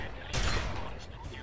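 Gunfire in the video game Fallout 3 comes as a sharp burst of shots under a noisy background, brief and moderately loud, followed by a rough lingering rumble.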